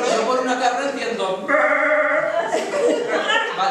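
A person imitates a goat's bleat with a wavering, nasal vocal sound mid-clip, surrounded by talk and light laughter in a small theatre presentation.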